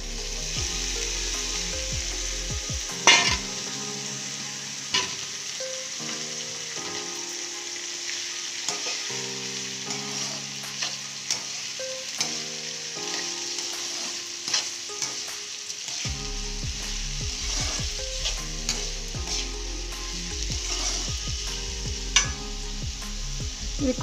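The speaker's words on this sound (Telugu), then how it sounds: "వేగిన తర్వాత క్యారెట్ ముక్కలు వేసుకోవాలండి" Carrot pieces sizzle steadily in a pan with oil and salt, with repeated scraping stirs and light clinks throughout, alone with no voices.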